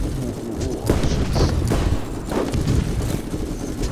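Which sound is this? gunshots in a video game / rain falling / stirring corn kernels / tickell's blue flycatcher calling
gunshots in a video game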